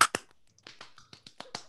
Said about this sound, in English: I'm going to clap now.